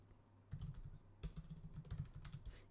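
Fingers tap on a computer keyboard in short, quiet bursts of keystrokes, close and soft, with no voice over them.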